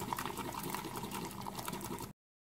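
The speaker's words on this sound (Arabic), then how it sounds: "غادي نخلط مزيان حتى كينسجم" A bowl of sugar, eggs, vanilla, salt and orange zest is whisked briskly in a quick, continuous rhythmic churning that stops abruptly, quiet and close.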